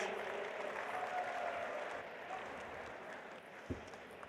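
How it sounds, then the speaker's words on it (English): Audience applause at a Nothing product launch event for the Phone 2A: steady crowd clapping heard faint and distant, slowly tapering off with a brief thump near the end. "Please, a big round of applause for Tom and Chris."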